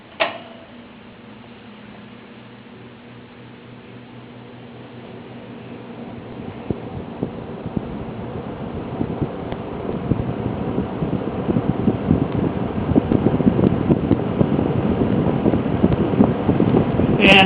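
Vintage Frigid 20-inch box fan, model P-20 with thermostat and push-button controls, running on low speed: a steady airy whoosh with a faint mechanical hum and light ticking, building gradually louder as the motor spins up, no talking.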